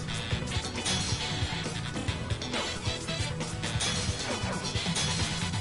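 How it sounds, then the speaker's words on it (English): Deathslinger, a killer in a horror multiplayer game, smashes through parts of a saloon, giving a run of repeated crashing, splintering thuds with a busy clattering background that stays loud and close throughout. "he was smashing parts of the saloon"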